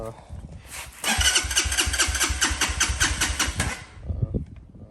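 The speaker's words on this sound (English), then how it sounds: "let's go ahead and try starting it up again" An Xpro Hawk 250cc EFI dirt bike engine cranks and catches after a second of quiet, then runs with a rapid, rough, pulsing rumble for about three seconds before dropping away. A voice is heard near the end.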